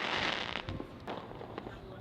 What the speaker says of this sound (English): We're waiting for the fireworks to go off, and I think they may have just started.